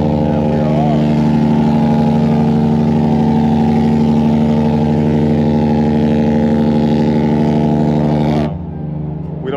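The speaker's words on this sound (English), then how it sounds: "You can hear the engines rumbling." A large cruise ship departing gives off a loud, steady engine rumble with a strong droning tone, running evenly for most of the span before cutting off abruptly near the end.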